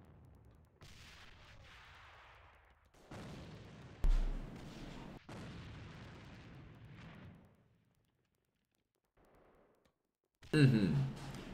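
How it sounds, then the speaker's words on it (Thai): Grenade explosion in the online shooter AVA during a 2013 tournament final match, a loud sudden burst near the end after a stretch of caster commentary and gunfire, with a deep low thump at the start of another blast midway. "โดนระเบิดไป"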